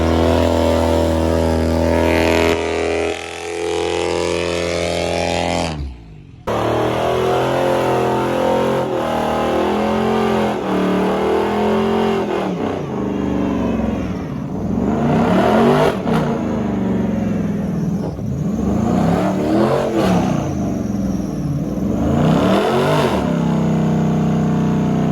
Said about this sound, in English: They about to do burnouts.